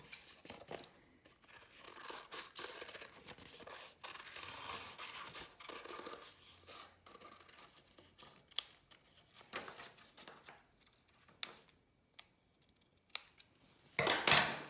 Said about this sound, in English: So we'll cut out a couple of eyes